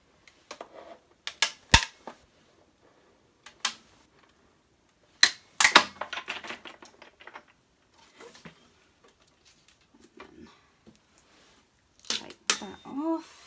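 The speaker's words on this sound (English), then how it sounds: "don't worry about the clicking, it's just the plastic" Plastic craft machine in a home crafting session giving sharp irregular clicks and snaps, some in quick clusters, with quiet gaps between, close and crisp, with brief soft voice in places.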